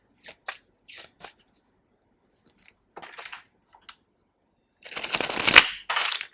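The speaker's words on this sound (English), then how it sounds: "I'm gonna need 4 more shuffles is what I'm hearing from Spirit." A tarot deck is shuffled by hand in quick crisp bursts, a few short riffles early on, then a louder, longer flurry of cards near the end, with no voices.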